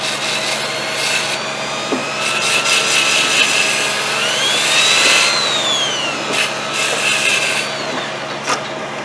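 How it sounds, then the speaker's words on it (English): A grinder lightly works away a burned spot on a stock tank heater, its whine rising and falling in pitch with a steady abrasive rasp, close and fairly loud, with no talk. "Just kind of lightly grind it away."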